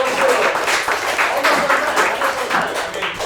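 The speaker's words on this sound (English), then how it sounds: "All right, a round of applause." An audience at a Toronto DAO crypto demo showcase claps after a hackathon presentation, a dense, fairly loud burst of applause throughout, with a voice faintly mixed in.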